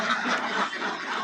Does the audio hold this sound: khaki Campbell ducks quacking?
yes